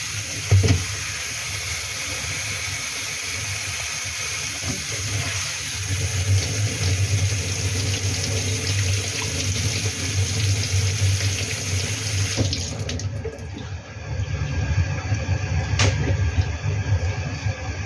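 A bathroom tap runs steadily while someone washes their face at the sink, a continuous close splashing rush that changes tone near the end.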